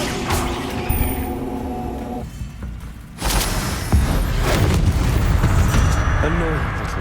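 A Bombarda explosion spell in Hogwarts Legacy, heavy booming blasts and crashing rumble filling several seconds, with a sharp surge midway and voices mixed into the chaos.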